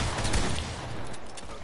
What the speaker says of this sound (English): There's really like 75 gunshots going on at once with the same shotgun